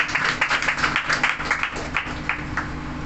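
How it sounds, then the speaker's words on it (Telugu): An audience at a youth meeting claps to welcome a speaker, a moderate, uneven patter of hands with a faint hum underneath and no talking. "చప్పట్లు కొట్టి అందరూ ఆహ్వానించారు."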